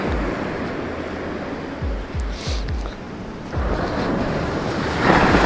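Waves wash onto Blackhall Rocks beach, with dark, almost black sand. The surf rushes steadily under gusty wind buffeting the microphone, with a few low thumps and a louder surge near the end.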